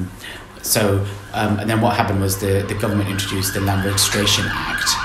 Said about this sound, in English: Excuse the noise there. The sirens.